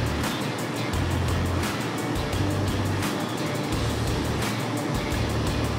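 A fan runs on its high setting with a wind diverter fitted, giving a loud, steady rushing roar of moving air with a low hum and faint periodic pulsing throughout.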